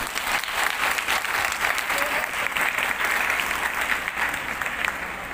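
Sustained audience applause fills a hall at an International Women's Day program as a guest arrives on stage, dense steady clapping with crowd noise lasting throughout.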